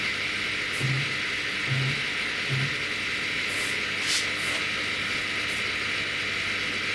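A CNC router's spindle, fitted with a 6 mm single-flute bit, is jogged down toward the material in three short, low motor whirs spaced about a second apart over a steady background hiss, with no talking.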